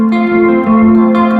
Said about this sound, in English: Kind of like a chorusy modulation reverb.